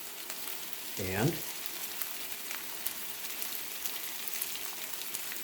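Ground beef sizzling in a hot pan with pine nuts as it is broken up: a steady, bright frying hiss throughout, with a brief scrape and a clunk near the start, close and continuous, and a single spoken word.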